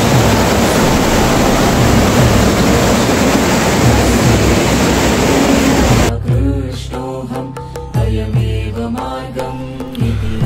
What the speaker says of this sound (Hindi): पानी का फ्लो देखिए आप, पानी का फ्लो कितना तेज पानी है।